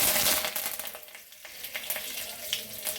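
Curry leaves hit hot oil where mustard seeds are spluttering, setting off a loud hiss that briefly fades, then returns as a busy scatter of sharp crackles and pops.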